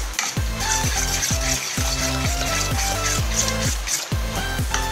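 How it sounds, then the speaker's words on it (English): Fish cake mixture with garlic and onion being stirred in a bowl, a steady, close, rhythmic scraping and sloshing that repeats about once every second over continuous background noise. "Mix lang natin para ma-distribute ng maayos yung garlic and yung onion."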